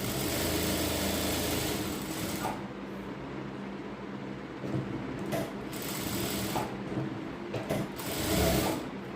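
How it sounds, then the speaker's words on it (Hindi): A sewing machine stitches a ladies' pant, a close, steady mechanical whir with brief pauses and restarts as the seam is fed through, with no talk. "यहाँ से हम इस तरह से सिलाई लगा देंगे"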